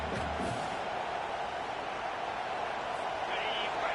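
A stadium crowd roars in the College Football 25 video game during a fourth-down play, a dense, steady wash of noise that holds at an even level throughout while a play-by-play commentator talks over it.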